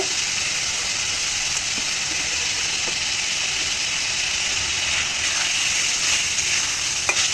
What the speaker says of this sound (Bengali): এখন আমি ভাজা কই মাছগুলি অ্যাড করে দিব।